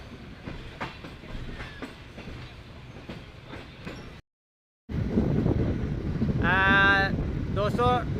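Passenger train 33UP rolling on rails at night between Hyderabad and Rohri, a continuous loud rumble and clatter heard from inside. The sound briefly drops out, then returns with squealing, whining tones over the running noise.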